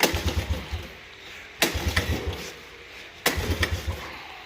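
A Suzuki Quadrunner LT125/LT185 ATV, running on choke with a freshly cleaned carburetor, is cranked three times; each pull brings a sharp start followed by a short burst of sputtering firing pulses that die away without catching.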